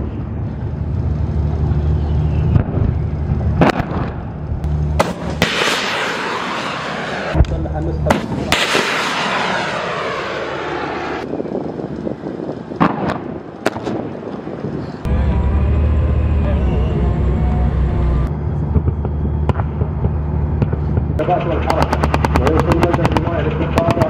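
A Korean K9 self-propelled howitzer fires in the desert, with heavy booming blasts and sharp cracks amid rumbling engine and machinery noise, loud and continuous throughout.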